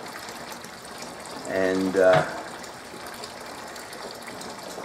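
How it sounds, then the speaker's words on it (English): Strike water pours into a mash tun during home beer brewing, a steady rushing gush that runs through the whole stretch while a voice briefly speaks over it. "we're just adding the strike water to the mash tun"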